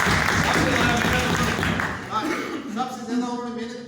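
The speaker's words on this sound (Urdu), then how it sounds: "تو ان کے لیے کلیپ کر رہے ہیں" Audience applause at a farewell party, a dense burst of clapping that fades after a couple of seconds while someone speaks over it.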